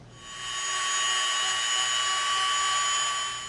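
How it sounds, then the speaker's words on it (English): A Dremel rotary tool whines at high speed against EVA foam, grinding off residue in one steady, close, continuous burst that swells up and holds for a few seconds with no talking. "Now we can get some of this residue off with our Dremel."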